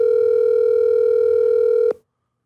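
A telephone sounds with a single steady electronic tone, loud and close, held for nearly two seconds before it stops abruptly into silence.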